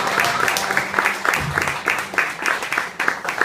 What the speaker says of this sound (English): Give Van another round of applause